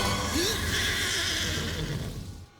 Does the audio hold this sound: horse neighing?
yes